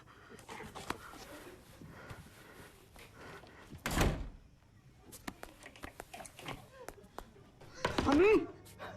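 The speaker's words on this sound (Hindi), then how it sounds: "हनी, हनी दरवाजा खोल बेटा।" Someone pounds on a closed door, with scattered knocks and one heavy thud followed by more banging, while a voice talks and pleads nearby.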